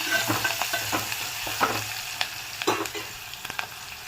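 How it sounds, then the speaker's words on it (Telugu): Onions, curry leaves, green chillies and dried red chillies sizzle and fry in a pan, with scattered scrapes and clicks of stirring over a steady moderate crackle, no talking. "ఇప్పుడు ఇందులోకి కట్ చేసి పెట్టుకున్న ఆనియన్స్, కరివేపాకు, పచ్చిమిర్చి అండ్ ఎండుమిర్చి వేసుకుందాం. ఒకసారి మిక్స్ చేసుకుందాము."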